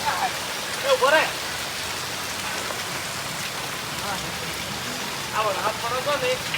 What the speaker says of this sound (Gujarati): આ વરસાદ પડો છો